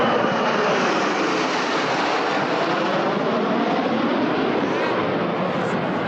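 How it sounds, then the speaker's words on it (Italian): A loud, steady jet engine roar from the Frecce Tricolori aerobatic team's jets fills the air without a break, broad and rushing like aircraft passing close overhead. "il rombo dei motori"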